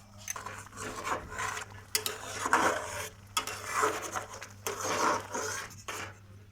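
Thick ripe mango paste is stirred in a pan while being cooked down into candy. The sound is a quiet series of scraping, rubbing strokes with soft clinks of the utensil on the pan.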